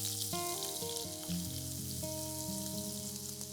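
Chopped onion and garlic fry with asafoetida in a pan, a soft steady sizzle running beneath background music, with no talking.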